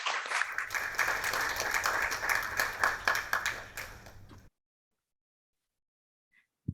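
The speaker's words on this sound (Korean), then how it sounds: "박수로 환영해 주십시오" Applause from the audience at an Australian council policy lecture on peaceful unification, welcoming a vice-chair to the stage. Dense clapping runs about four and a half seconds, then stops abruptly into silence.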